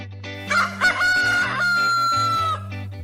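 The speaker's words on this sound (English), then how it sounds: "Rooster." A farmyard rooster crows one long cock-a-doodle-doo, loud and close, with a couple of short clucks at the start and a steady music bed underneath.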